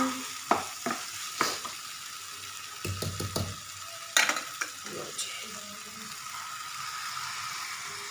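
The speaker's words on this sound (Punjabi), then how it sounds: "ਤੇ ਦਹੀਂ ਪਾ ਕੇ ਇਸ ਨੂੰ ਤੁਸੀਂ ਹਿਲਾਉਣਾ ਹੈ ਕਿਉਂਕਿ ਦਹੀਂ ਫਟੇ ਨਾ" A spoon scrapes and clacks through a pan of potato curry as yogurt is stirred in for matha aloo, with irregular stirring strokes over a soft, steady sizzle.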